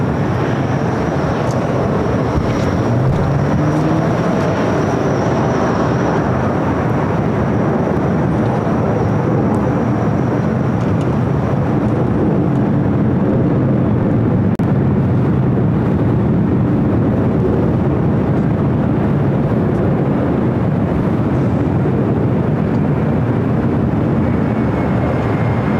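A Boeing 787 Dreamliner airliner takes off at LAX, a continuous broad jet roar that stays loud and steady throughout with no talking over it.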